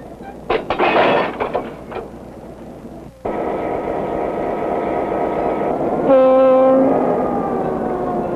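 A few clanks and rattles give way to a third-rail electric train's continuous rumble as it passes, with a horn-like whine rising near the end.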